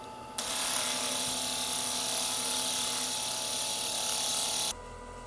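A slice of chondrite meteorite is ground down to take out saw marks, making a loud, steady whirring grind that starts abruptly, holds for about four seconds and then cuts off.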